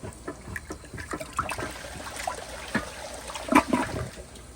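A 1994 elongated Kohler Wellworth Lite toilet, clogged, flushes with a close swirling rush of water, gurgling bursts and draining splashes over several seconds, no voices.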